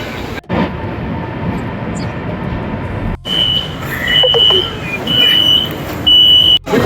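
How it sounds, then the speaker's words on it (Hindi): Busy metro station ambience at rush hour in Guangzhou, China: rumbling train noise and crowd din, with repeated high electronic beeps and a few abrupt cuts. "मेट्रो का रश है ये"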